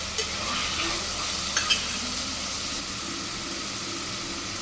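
Sliced onions with a pinch of salt frying in hot oil on a low flame for mutton curry, a steady soft sizzle with a few light stirring scrapes.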